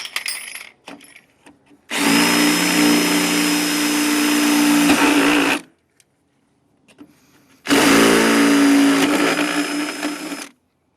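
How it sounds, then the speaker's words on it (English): A power drill drilling plastic whirs loudly in two long bursts separated by a brief pause, each run steady and grinding, then cutting off. "Plus, it's easier to drill plastic, don't you agree?"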